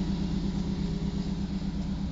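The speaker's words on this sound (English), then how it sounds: "Got the 5-liter V8. It's actually got a really nice exhaust system actually on it." A 2016 Ford F-150 extended cab with a 5-liter V8 and side-exit exhaust idles in a steady, low, fairly quiet rumble, with no voices.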